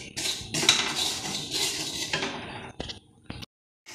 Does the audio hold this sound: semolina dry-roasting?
yes